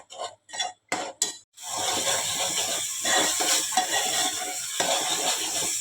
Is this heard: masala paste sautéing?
yes